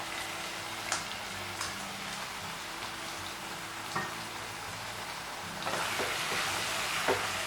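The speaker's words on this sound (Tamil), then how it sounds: "சிக்கனும் 2 நிமிஷம் எண்ணெயில் நல்லா வதங்கட்டும்." Chicken frying in oil in a pan for a coriander chicken dish, a steady soft sizzle with a few sharp pops and crackles, growing a little busier near the end.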